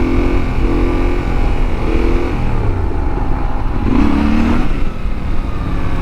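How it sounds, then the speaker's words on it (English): Yamaha Tenere 700 motorcycle wheeling as the rider practises coasting wheelies, engine droning steadily with small rises and dips in revs, loud and continuous throughout, no talking. "So this is just a Tenere 700 wheeling, trying to learn coasters"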